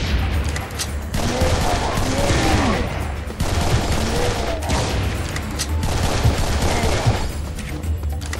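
Sustained gunfire from a weapon with limitless ammo in the shooter game Serious Sam 3: BFE, a dense continuous fusillade with booming impacts across the whole span, voices faintly mixed beneath.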